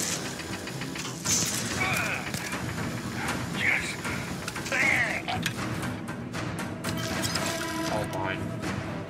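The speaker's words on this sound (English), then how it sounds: "Explosions." Explosions and crashing bursts in the space game Starfield over a noisy, cluttered mix, with occasional bright synthetic tones rising above the din.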